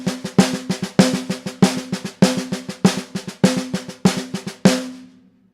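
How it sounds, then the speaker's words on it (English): Sticks tap a practice pad in a steady paradiddle, the first stroke of each group accented, crisp and close, ending with a short ring-out. "warm up with just your regular paradiddle where you're accenting the first stroke like this"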